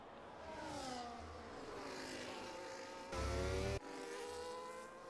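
Old-generation Formula 1 cars in a racing video game, during a league race at Hungary, whine past with rising and falling engine pitch, building to a loud, close burst of engine noise partway through before easing back.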